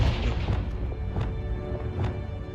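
A Confringo fire-blast spell in Hogwarts Legacy erupts as a heavy, rumbling explosion with repeated booming impacts, loud and continuous throughout the short moment.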